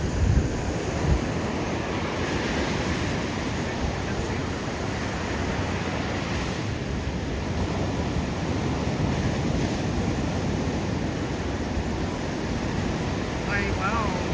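Ocean waves wash steadily onto Jaco beach, a continuous broadband surf roar with wind buffeting the microphone and no clear breaks.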